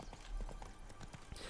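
Roach, a horse in The Witcher 3, galloping with quick, rhythmic hoof clops, quiet and fairly close, no talk over it.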